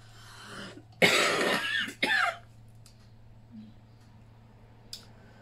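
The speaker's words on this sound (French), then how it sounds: "Je tousse tous les matins." Two harsh, loud morning coughs in quick succession, close by, followed by quieter rustling and a faint low hum in the background.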